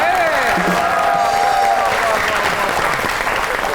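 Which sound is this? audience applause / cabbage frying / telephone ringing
audience applause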